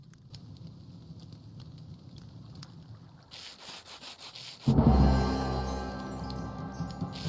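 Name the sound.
sanding with sandpaper in a video game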